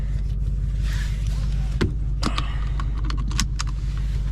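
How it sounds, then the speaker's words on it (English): A seatbelt pulled across and latched inside a 2024 Ford Mustang GT, with webbing rustling and a few sharp metallic clicks and jangles of the buckle over a low engine hum in the cabin. "Let me put my seatbelt on so that gets off the screen."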